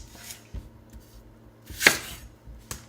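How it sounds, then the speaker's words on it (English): A kitchen knife cuts into raw sweet potatoes and yams on a board, giving a few sharp, separate thunks, with one louder chop in the middle, close and clear against quiet. "when you chop into them, take this knife right here"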